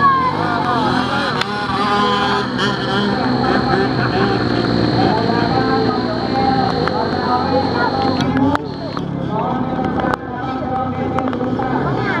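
A grass track motocross motorbike ridden by a young rider revs and drones with a shifting engine pitch, loud and continuous, while people talk over it.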